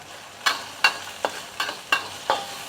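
Garlic and ginger with salt stir-fried in a pan: a soft sizzle under regular spatula strokes landing roughly every half second, close and distinct.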